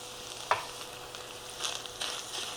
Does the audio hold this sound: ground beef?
yes